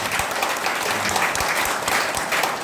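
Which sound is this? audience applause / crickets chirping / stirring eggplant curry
audience applause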